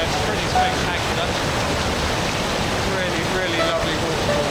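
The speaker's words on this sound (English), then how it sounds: "Really lovely waterfall." A waterfall near Black Tor Copse on Dartmoor gives a loud, constant rushing roar that fills the whole stretch without a break.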